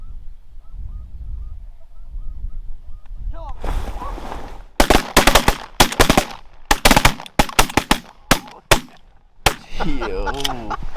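Shotgun blasts during a cold-front duck hunt from a blind, a rapid volley of loud, close cracks after a stretch of honking birds and calls, with more quacking and honking between and after the shots.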